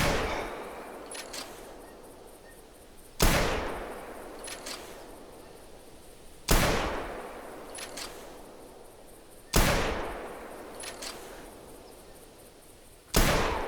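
Four loud rifle shots at a running wild boar in theHunter 2017, evenly spaced about three seconds apart, each a sharp crack followed by a decaying echo, with no talk.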